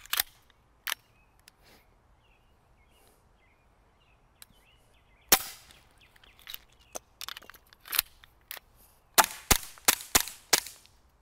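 Pistol gunfire during a reload drill at an outdoor backyard shooting range: scattered single sharp shots, a pause for the magazine change, then a rapid string of cracks, with birds faintly in the background.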